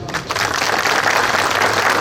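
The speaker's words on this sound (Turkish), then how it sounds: "Onları bir alkışlayalım." Applause from a crowd at the opening ceremony of a health centre in Beşiktaş, a continuous wash of clapping that holds steady and fairly loud for the whole stretch.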